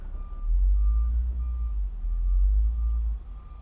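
A truck's reversing beeper sounds a steady series of evenly spaced beeps over a loud low engine rumble, close by outdoors with no talking.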